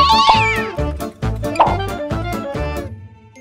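A cat meows repeatedly, five or six distinct close, loud calls in an uneven rhythm, some drawn out and whiny, with no talk over them.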